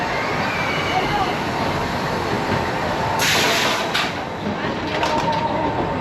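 The zoo safari train at Busch Gardens Tampa Bay rolls along with a constant rumble and faint rattling, while a narrator talks over the ride.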